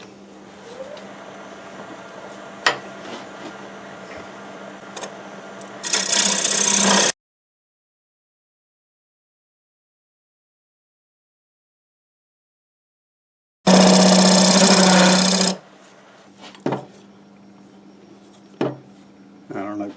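A stellite scraper shapes a wooden ball on a spinning lathe. Two loud, harsh bursts of scraping come up close, separated by a long silent gap, against a quieter background hum with a few faint clicks.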